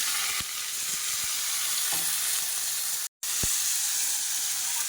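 Green chillies and potatoes hit hot oil with cumin in a pan, giving a loud, continuous close-up sizzle and hiss with a few soft stirring knocks and one brief dropout.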